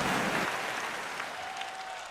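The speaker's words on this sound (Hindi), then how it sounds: "इस पे वो ताली बजा रहे जो खुद को ढंग के समझ रहे हैं।" Audience clapping at a Hindi comedy poetry gathering (hasya kavi sammelan), a dense, fairly loud wash of applause that starts full and gradually thins and fades over about two seconds.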